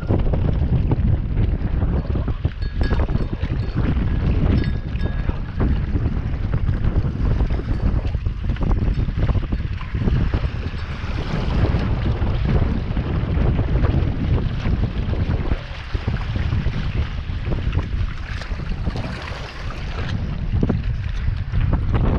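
Strong wind buffets the microphone in a steady, heavy roar over choppy open water off Guam, with fishing boat and wave noise churning underneath throughout.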